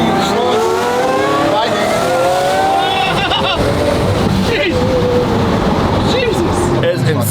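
A Gintani-tuned twin-turbo V12 Lamborghini SV accelerates hard, its loud engine rising through the gears with brief shift breaks, heard from inside the car under excited talking and shouting.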